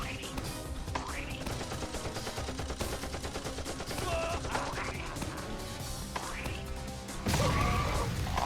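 Rapid video game gunfire from a Roblox prison run map, dense continuous bursts and crashes filling the whole stretch, loud and busy with some voices mixed in.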